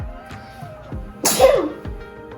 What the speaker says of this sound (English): That made me sneeze.